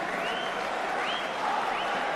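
Hull Kingston Rovers supporters at a rugby league match against St Helens cheer and applaud as a steady, distant crowd roar that holds evenly throughout, with faint whistles rising above it.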